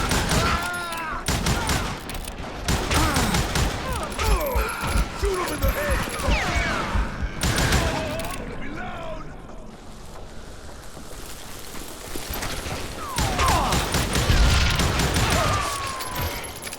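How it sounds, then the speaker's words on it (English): A Gatling gun opens up in Call of Juarez: Gunslinger, a dense, rapid string of loud close shots with ricochets and booms, broken by short pauses, while voices talk over the barrage. "Kid Curry opened up on me with a goddamn Gatling gun"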